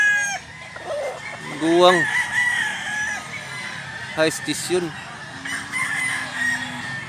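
Several chickens, among them roosters, crow and cluck in short repeated bursts at a moderate distance, while someone talks over them.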